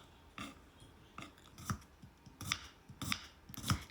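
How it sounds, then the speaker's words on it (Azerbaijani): Knife chopping two hot peppers on a cutting board, with several separate crisp cuts at an irregular pace, close and fairly quiet. "İki ədəd acı biberi də doğrayıram."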